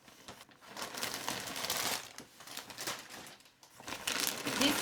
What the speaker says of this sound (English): I thought it would be nice to open this package together with you guys